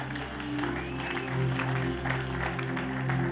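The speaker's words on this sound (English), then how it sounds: "Clap your hands." Church congregation clapping hands during a sermon, irregular clapping mixed with voices over a sustained low musical drone in the hall.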